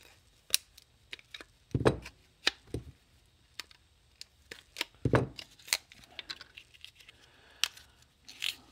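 Packaging for a CR2032 coin-cell battery is cut and pried open with a knife, giving scattered close crunches, snips and crinkly plastic taps with a few louder thuds, irregular and moderately quiet.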